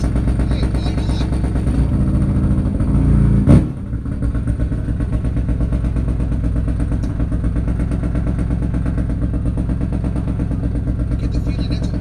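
A Nitro Pro Fuel Harley drag racing motorcycle in the Ultra 460 class runs at a drag strip. Its engine gives a loud, steady, rumbling idle with a brief sharp burst partway through.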